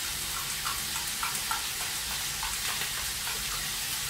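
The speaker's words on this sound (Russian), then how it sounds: "Я добавлю сухую мяту и кипит." Steady, quiet sizzling and bubbling from a pan of pasta pilaf with chicken and dried mint, with soft irregular pops over a constant hiss; no voices.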